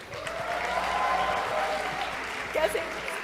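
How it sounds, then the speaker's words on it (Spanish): An audience at a music masterclass event breaks into steady applause, a continuous wash of clapping across the whole moment with a slight swell near the end and no clear voices over it. "Aplauso, por favor."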